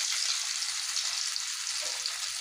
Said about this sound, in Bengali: অপর পাশগুলো একই রকমভাবে ভেজে নেব